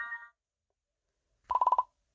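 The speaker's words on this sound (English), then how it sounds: "Guys, the phone is ringing." A phone ringing: a short tonal chirp, then after a pause a quick burst of about six fast electronic pulses, fairly quiet and clean, with no voices over it.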